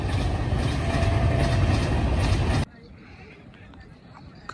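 A train rumbles past near an outdoor cricket match, loud and close with rolling rail noise and voices mixed in. The rumble drops away abruptly partway through, leaving quieter background sound.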